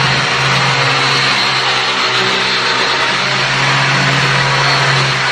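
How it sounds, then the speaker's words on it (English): A stone polishing machine grinds across granite at a Philippine house build, giving a loud, continuous, unbroken whirring roar for the whole stretch, with a brief voice speaking over it. "And the polishing of the stone."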